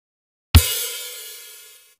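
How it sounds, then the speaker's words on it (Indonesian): A single combined hit of open hi-hat and kick drum on the Real Drum app: one sharp low thump with a bright cymbal wash that rings on and fades out over about a second and a half, heard alone. "Kemudian ketuk secara bersamaan open hi-hat dan kick."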